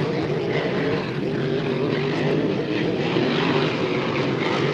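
Hydroplane race boats roar through a turn at the Beauharnois 2014 HRL race. The loud engine drone stays steady and unbroken the whole time, with no voices.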